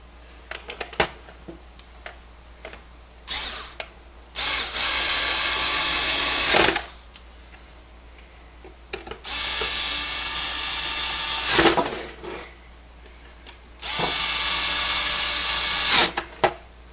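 Power drill backing screws out of a roller controller: three sustained whirring bursts of a few seconds each, close and loud, separated by quiet pauses with small handling clicks.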